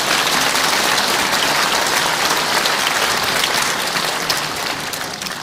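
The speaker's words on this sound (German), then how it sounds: "da einmal einen guten Applaus" Sustained, loud audience applause at an anniversary celebration of a ballet school, dense even clapping from a large crowd that holds steady for several seconds and eases slightly toward the end.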